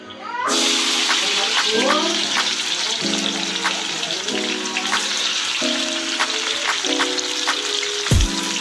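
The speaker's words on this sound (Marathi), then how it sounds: "तेल तापलंय. आता काय करायचं, कांद्याला तळायचं." Onions fry in hot oil in a home kitchen, a steady crackling sizzle that runs throughout while someone talks over it.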